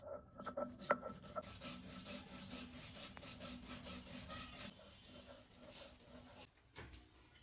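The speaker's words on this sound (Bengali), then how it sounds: "সরিষা লাগবে তো একটু সরিষা বেটে নিচ্ছি আমি" Mustard seeds are ground into paste for a hilsa paturi dish, heard as repeated rough scraping and rubbing strokes, close and quiet, with a faint voice briefly in the background.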